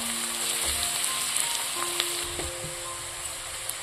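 Garlic paste fries in hot mutton fat in a pan for ghugni, giving a steady, moderate sizzle with scattered small crackles and pops throughout.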